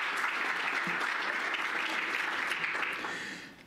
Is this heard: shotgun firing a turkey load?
no